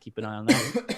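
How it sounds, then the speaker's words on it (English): A single short cough cuts through someone speaking, close to the microphone, with a brief throat-clearing quality. "It's a cough, all right."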